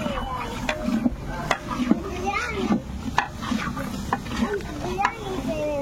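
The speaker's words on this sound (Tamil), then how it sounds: "ஓகே, கிண்டிக்கிட்டு இருக்காங்க" A large pot of chicken biryani, about 4 kg, being stirred with scraping ladle strokes in a steady rhythm, with children's voices and talk over the clatter.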